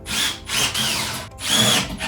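A power driver sinks hot-dip galvanized lag screws with washers through a metal guard-rail base plate, giving three close, loud whirring bursts separated by short pauses.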